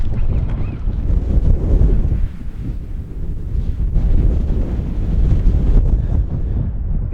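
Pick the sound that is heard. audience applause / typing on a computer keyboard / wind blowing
wind blowing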